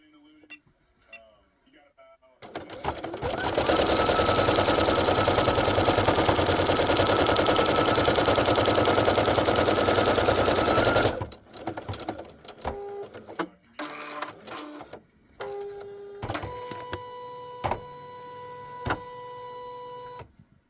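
An embroidery machine sews a tack-down stitch on clear vinyl, a loud, rapid, steady mechanical whir for several seconds that stops into quieter clicks, motor tones and brief intermittent running.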